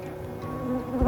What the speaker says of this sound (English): There's just too many bees.